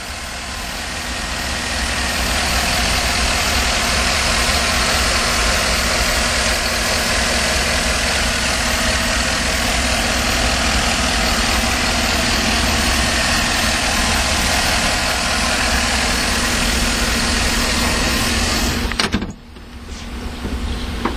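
A 2011 Chevrolet Tahoe LTZ's 5.3-liter Vortec V8 idles steadily and loudly for about twenty seconds, a dense continuous rumble that cuts off abruptly near the end, with no voices.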